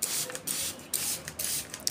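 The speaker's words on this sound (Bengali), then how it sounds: "দেখুন আমি কিভাবে স্প্রে করছি। পুরো খাঁচা আমি এভাবে স্প্রে করে দিব।" A hand pump sprayer mists Hexisol disinfectant over a pigeon cage in repeated short hissing bursts, four or five quick sprays in a steady rhythm, close and fairly loud.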